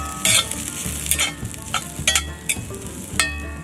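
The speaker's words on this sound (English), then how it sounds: "I got my skillet getting hot. I'm gonna dump in the broccoli first." Broccoli dumped into a hot skillet crackles and sizzles, with bursts of stirring and scraping clatter over a steady frying hiss, up close and without talk.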